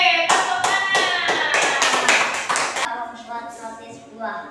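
A class of children claps in a classroom, with a burst of lively applause that breaks into several rhythmic beats and then fades into scattered claps and chatter.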